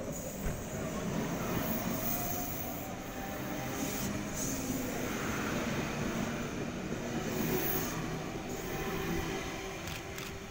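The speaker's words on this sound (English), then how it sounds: "Here we have the unfortunately graffitied K68 departing for a Lidcombe service." A graffitied Sydney Trains set departs Dulwich Hill station on a Lidcombe service, with a steady rumble of wheels and faint squeals rolling past at moderate distance and no voices.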